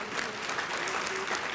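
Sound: audience applause at jazz brunch

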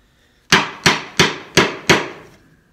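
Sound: small quarter-inch chisel chopping out dovetail waste in wood

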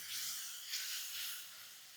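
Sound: soaked moong dal frying in oil

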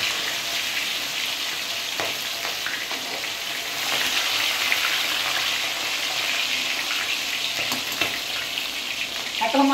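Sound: frying food in hot oil in a wok

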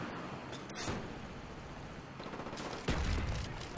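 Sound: gunfire in a video game shooter

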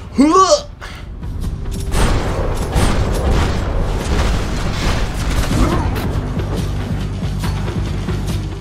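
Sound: gunfire in the video game Max Payne 3

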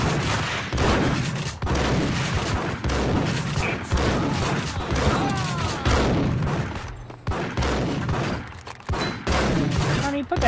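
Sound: gunfire in video game Max Payne

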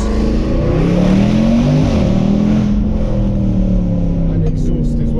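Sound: Range Rover SVR exhaust revving

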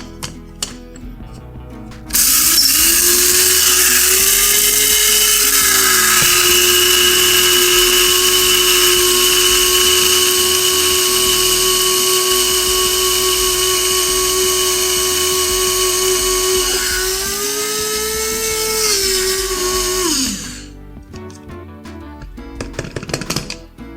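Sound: electric grinder grinding mustard seeds

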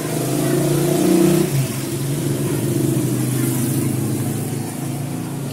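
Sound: Kawasaki Barako 2 motorcycle engine roaring

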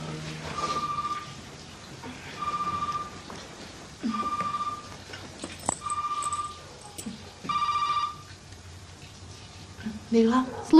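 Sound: mobile phone ringing

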